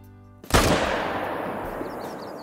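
A single loud rifle shot fired at a bear in the hunting game Call of the Wild, a sharp crack followed by a long rolling echo that fades over about two seconds, with no talking.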